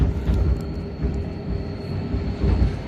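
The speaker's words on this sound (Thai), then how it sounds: "รถไฟกำลังไต่ขึ้นไป" Mountain train in Switzerland climbing a steep track, a steady loud rumble of wheels and carriage with rhythmic clatter throughout, heard from inside the car with no talking.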